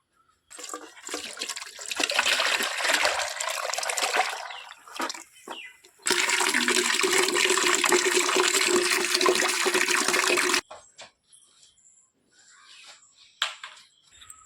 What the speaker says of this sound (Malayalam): ഇനി ഇതിനകത്ത് വെള്ളം ചേർക്കണം